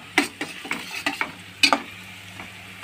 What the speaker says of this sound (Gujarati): અમારે ડુંગળી અને મરચા ને લીમડો બસ એનાથી વઘાર કર્યો છે